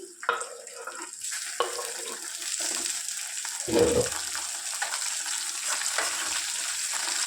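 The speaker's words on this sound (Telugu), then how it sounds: "ఇప్పుడు ఈ టమాటాలు బాగా మెత్తగా మగ్గేంత వరకు కుక్ చేసుకోవాలి" Chopped tomatoes added to fried onions in a pan for a peanut chutney, sizzling with a soft crackle, and a brief stirring clatter partway through, fairly close.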